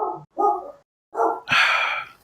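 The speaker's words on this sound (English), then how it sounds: "I don't know what they're barking at." Dogs bark nearby: a quick run of loud, sharp barks in two short bursts, with a brief gap between them and no other sound.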